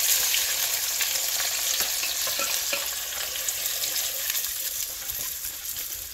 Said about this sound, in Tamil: நல்லா வதங்கி வரட்டும் வெங்காயமும் பச்சை மிளகாவும்